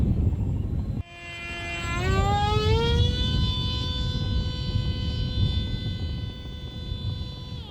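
A TEK Sumo Combat Wing RC plane on a 4S setup throttles up to full power. Its electric motor rises sharply into a loud, sustained buzzing whine that holds steady at full throttle, heard close over wind rumble.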